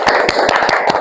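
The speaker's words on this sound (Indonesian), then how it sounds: "Kita kasih aplaus untuk kelompok" Applause from a group of students in a classroom, a brief burst of clapping with sharp, evenly spaced claps about five times a second, fairly close and loud.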